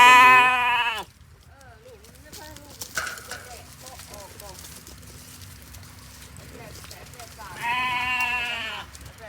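Sheep bleating in a pen, a loud wavering bleat at the start and another near the end, with quieter calls and farmyard noise between.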